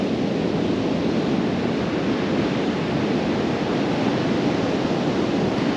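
Surf washing onto a beach under a cloudy sky, a steady broadband roar that fills the whole stretch without letup, mixed with some wind rumble on the microphone and no voices.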